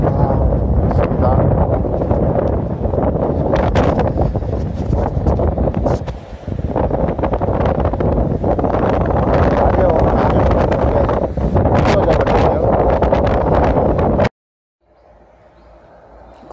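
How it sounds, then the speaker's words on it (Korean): Strong coastal wind at Gungpyeong Port, Hwaseong, buffets the microphone in heavy, roaring gusts for a long stretch, then drops away to a quieter background near the end. "지금 바람이 많이 불고 있는데요."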